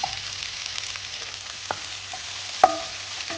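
Two medium onions, chopped small, frying in a pan with garlic and ginger for a raw banana kofta curry: a steady, soft sizzle with a couple of brief clinks of stirring.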